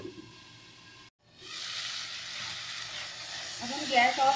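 Chicken filling with parsley cooks covered in a pan over a low flame, giving a steady soft sizzle and hiss that drops out for a moment, then returns a little louder with faint stirring or lid clinks near the end.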